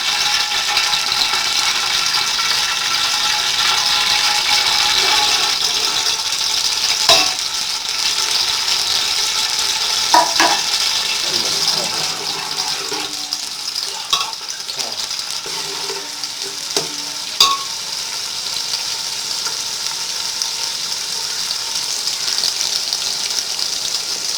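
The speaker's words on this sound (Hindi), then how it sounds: "घी गर्म हो जाए तो प्याज डाल देंगे।" Onions frying in hot ghee for mutton biryani, a loud steady sizzle throughout with occasional clinks and scrapes of a spoon stirring in the pot.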